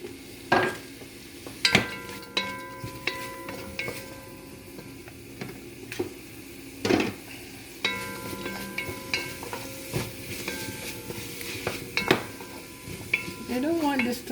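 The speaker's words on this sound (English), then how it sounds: "when it starts to sizzle," Chopped onion sizzles steadily while being stir-fried in a hot pan as a utensil scrapes and clinks against it in irregular strokes, close by.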